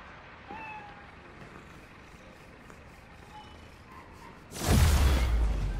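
A cat meows once in a Spider-Man Miles Morales game scene, a short faint call over low city traffic rumble, before a loud whooshing burst of noise takes over.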